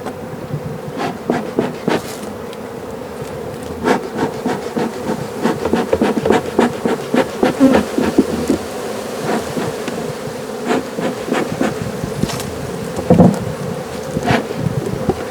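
Bees buzz in an open beehive, a close, continuous drone with many individual insects passing near, layered wing hum and occasional louder flybys, no voices.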